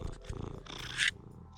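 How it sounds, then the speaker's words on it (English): A shop cat purring close by in a tractor repair shop, a soft low rumbling purr with a brief brighter burst near the end. "Oh, Gus, the shop cat"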